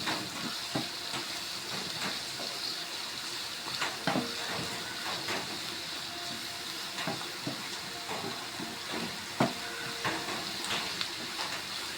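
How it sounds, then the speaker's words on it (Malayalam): Chopped wild gooseberries are stirred in a hot pan, giving a soft continuous sizzle broken by scattered scraping clicks of the spoon, fairly quiet and close. "എല്ലാം കൂടി നല്ലതുപോലെ ഇളക്കി യോജിപ്പിച്ച്"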